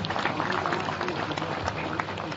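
An audience at an Indonesian community event claps steadily, a continuous patter of many hands at moderate distance with faint voices mixed in.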